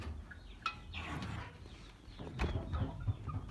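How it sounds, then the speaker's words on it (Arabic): A broody hen clucks in low, repeated murmurs inside a chicken coop, close and fairly quiet, with a few sharper calls mixed into the soft muttering. "عندي دجاجة هاي كاركة."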